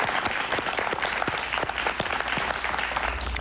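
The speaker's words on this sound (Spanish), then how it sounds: "Un aplauso, por favor." Steady, dense applause from a studio audience on a Spanish-language talk show, a continuous wash of many hands clapping at even loudness from start to finish, heard alone without voices.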